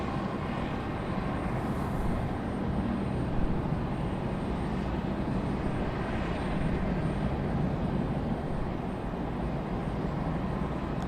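A United airliner taxiing out toward runway 23 right at Raleigh-Durham International at sunrise gives off a steady, moderately distant engine whine and roar that stays even and continuous, with no voices.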